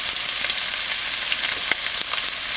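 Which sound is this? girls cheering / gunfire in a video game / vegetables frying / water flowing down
vegetables frying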